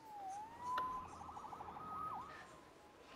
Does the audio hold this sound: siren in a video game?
yes